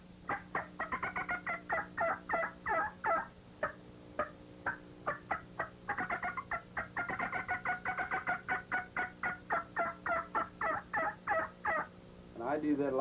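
A hand-worked turkey call imitates an old hen's cackle: a string of sharp, rhythmic yelps in quick runs with short pauses, fairly faint, and a voice speaks around them.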